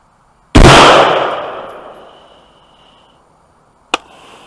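A Colt AR15 rifle fires two shots on open ground: a loud sharp crack with a long decaying echo, then a second report about three seconds later.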